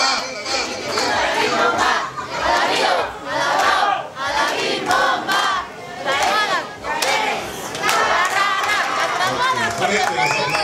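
A crowd at a girls' graduation event shouts and chants loudly in repeated rhythmic bursts, with excited voices, cheering and some clapping mixed in, dipping briefly between surges.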